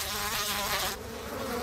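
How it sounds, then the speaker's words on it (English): A colony of bees buzzes in a Simpsons cartoon, a close, steady insect drone that holds briefly and then thins slightly toward the end. "a colony of bees will soon form around your face"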